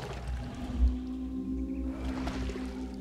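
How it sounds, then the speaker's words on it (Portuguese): Low, drawn-out moaning call of a Camarasaurus dinosaur in the survival game The Isle, a deep tonal groan under ambient stream-like background noise. "ouço o Camarasaurus gritando"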